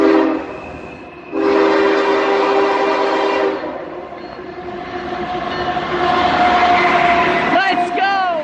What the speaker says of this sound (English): That is a Canadian Pacific locomotive.